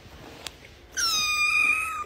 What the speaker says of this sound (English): Dang, the cat just wants some freaking milk.